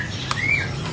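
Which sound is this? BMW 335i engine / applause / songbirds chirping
songbirds chirping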